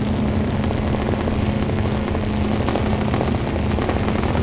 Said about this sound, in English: Burnett bringing the RPMs up, spooling up the turbos